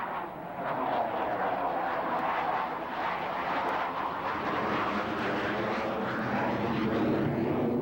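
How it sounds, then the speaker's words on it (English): A Blue Angels jet, aircraft number 5, rolls for takeoff at a 1992 airshow at Grissom Air Force Base, a loud continuous roaring engine rush that holds steady throughout. "Back to the right, Lieutenant Commander Foley and Blue Angel number 5 is rolling."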